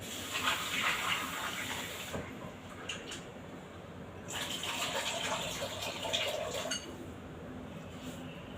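Wolfberries rinsed under running tap water while preparing Chinese herbal soup with pork rib; a steady broadband gush of flowing water runs throughout, shifting in intensity as the berries are moved under the stream.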